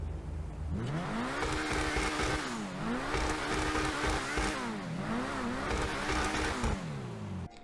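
A Progen Emerus supercar in GTA Online revving repeatedly, its engine rising and falling in several swooping pitch sweeps, loud and upfront with no talking.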